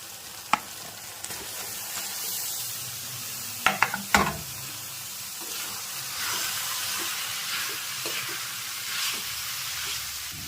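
Carrots and cabbage are stir-fried in a pan with a steady, hissing sizzle. A few sharp utensil clanks and scrapes sound early on before the frying settles into a constant hiss, with no talking.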